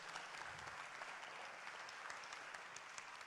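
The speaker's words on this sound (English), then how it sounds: "a big round of applause for my colleagues here" Audience applause at a live conference stream, a faint, distant wash of steady clapping throughout, low in level with no voices.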